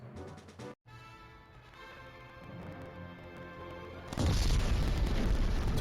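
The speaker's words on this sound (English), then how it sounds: "Explosion." A cutscene explosion in The Simpsons Game on the Nintendo DS comes in as a sudden heavy boom after a stretch of quieter game music and sound. A loud, roaring blast rumble then holds steady to the end.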